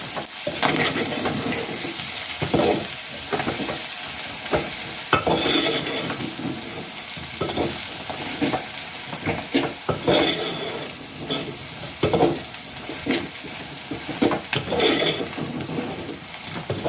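Food is stirred and fried in a pan, a continuous sizzle broken by repeated scraping and clattering strokes of a utensil against the pan, close and fairly loud, with no talking.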